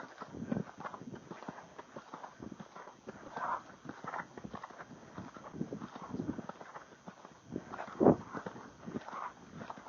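A horse cantering in an indoor arena, its hoofbeats thudding in a steady rhythm close by, with a rider's voice talking intermittently over the footfalls.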